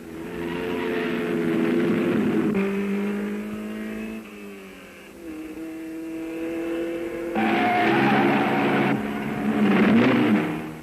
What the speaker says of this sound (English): Number 4 gets his Jaguar onto the circuit.